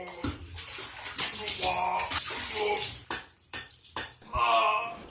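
Shower water running and splashing in a small stall while a wheelchair user sits on the floor to wash, a steady wash of spray with brief drops and pauses between bursts.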